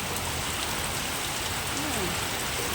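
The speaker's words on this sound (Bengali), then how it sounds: "সব গাছগুলোয় হাওয়া দিচ্ছে আর জোরে বৃষ্টি পড়ছে" Heavy rain driven by wind pours down steadily on trees and surfaces, a dense, even hiss with no break throughout.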